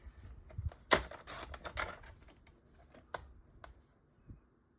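Cardstock panel for a handmade fan fold card being trimmed to size on a paper trimmer: sharp, close slicing and sliding scrapes with a few soft taps, quiet and without speech.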